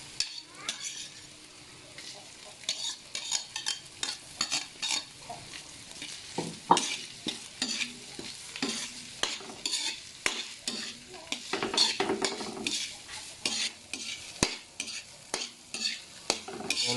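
Bitter gourd (ampalaya) fries in a pan with onions, with steady sizzling and repeated scraping and clinking strokes of a spatula stirring the pan, close and continuous with no voices.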